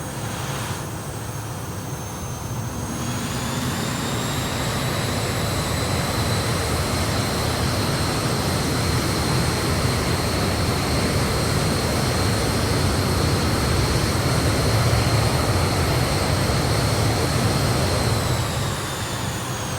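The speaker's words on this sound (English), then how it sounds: "We'll taxi her out then" Steady whine and roar of a BAE Hawk Red Arrows jet taxiing in Microsoft Flight Simulator, a continuous engine drone with high tonal whistles that rise slightly in pitch, close and sustained throughout, no talking.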